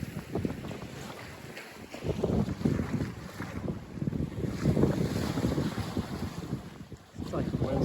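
Wind rushes steadily past a Buccaneer 18 sailboat on a broad reach, with loud buffeting gusts on the microphone and the wash of water against the hull running continuously throughout.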